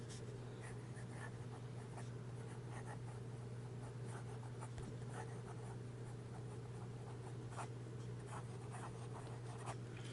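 Fountain pen with a steel nib writing on paper, a quiet, close scratching of short strokes over a steady low hum, no talk.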